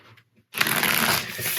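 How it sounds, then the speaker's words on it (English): Tarot cards shuffled by hand, a dense continuous riffling rush starting abruptly after a short quiet moment and running close and loud to the end. "I'm going to kind of flip the cards around a little bit more here for one or two last shuffles."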